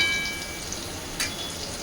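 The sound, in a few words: bitter gourd frying in a pan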